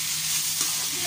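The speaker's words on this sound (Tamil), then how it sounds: "இது சும்மா ஒரு 1 மினிட் நல்லா வதக்கினாலே போதும்." Mashed potato with onion and tomato sautéing in hot oil in a pan, giving a steady, close sizzle with faint stirring throughout.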